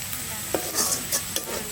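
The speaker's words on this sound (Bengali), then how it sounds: "কুচনো পেঁয়াজটা ভেজে নি।" Chopped onion sizzling in ghee for mutton curry, with a spoon stirring through it: a continuous close fry hiss broken by several sharp scraping and clinking strokes, and no voices.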